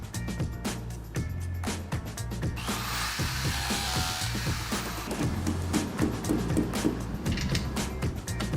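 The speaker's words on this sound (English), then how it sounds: "Now we just have to drill into the block, open up the keypad, and then screw it to the wall." A power drill bores into a block during a keypad installation on a wall, giving a loud sustained whine with grinding bursts and brief pauses between pushes.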